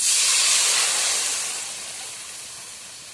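A loud, broad hiss fills the clip, steady at first and then gradually fading, as ground mustard paste sizzles in a hot pan with fried fish.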